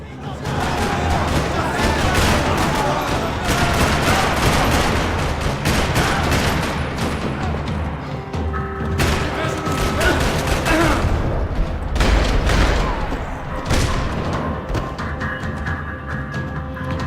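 Rapid bursts of gunfire in Max Payne 3 crackle and boom continuously, dense volleys layered with voices and game effects.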